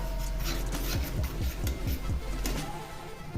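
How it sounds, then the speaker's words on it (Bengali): A spice paste is stirred and fried over low heat in a pan, with steady scraping and rasping of the spoon against the metal, rhythmic strokes close by and no voices. "আমি কিন্তু কম আঁচেতেই এটাকে ক্রমাগত কষিয়ে নেব"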